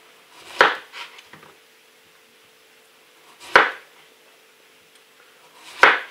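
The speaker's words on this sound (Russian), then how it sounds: "А я кабачки режу." Knife cutting zucchini on a board in a home kitchen, three sharp separate chops spaced a few seconds apart, close and crisp, with faint small knocks between them.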